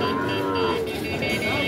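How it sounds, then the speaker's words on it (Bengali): Sahiwal bull calves at a busy cattle market lowing loudly and steadily, a sustained moo running through most of the moment over the surrounding crowd noise. "শাহিওয়াল জাতের বাছুর গরুগুলো রয়েছে সেই গরুগুলো"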